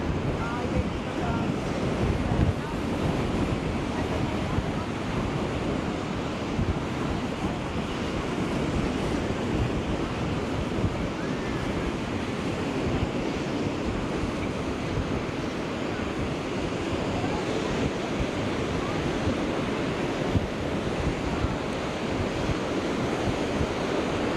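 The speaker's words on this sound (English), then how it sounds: "It's definitely become a very windy day out today." Strong wind buffets the microphone at a Florida beach, roaring steadily over breaking ocean surf for the whole stretch, loud and continuous with a faint voice briefly in the background.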